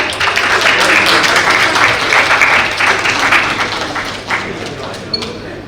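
Audience applauding loudly as a professor is honoured with a memento, sustained clapping that thins out toward the end, with a low hum and a few thumps underneath.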